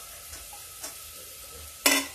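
Tomatoes go into a pan of fried onions, bringing a steady background sizzle, a few soft stirring scrapes and then a sudden louder hiss as they land in the hot oil.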